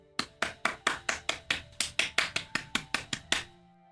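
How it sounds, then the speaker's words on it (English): Roughly fifteen sharp, evenly spaced hand claps ring out in a quick steady rhythm, close and clear in a quiet room, each with a brief decay before stopping. "they both stood up clapping."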